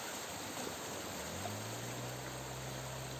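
Swollen Pamba river in flood at Pathanamthitta, Kerala, after dam water release, a steady broadband rushing roar of water, constant and distant-sounding, with a low hum entering midway.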